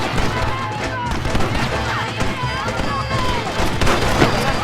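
Gunfire in the Western video game Red Dead Redemption: rapid bursts of shots crackle densely throughout amid a loud, busy mix, with voices shouting over the shooting and steady background noise.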